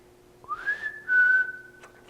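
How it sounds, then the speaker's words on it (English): Whistling in an empty school during a night-time ghost investigation: a single rising tone that glides up and holds steady for over a second, fairly clear and close, with no talk. "Can you whistle again?"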